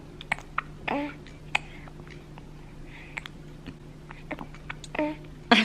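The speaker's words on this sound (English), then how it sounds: "Does anybody else's baby make this noise when they eat?" A newborn baby feeding makes soft little squeaks, grunts and smacking sucking sounds, close and quiet, spaced irregularly over a faint steady hum.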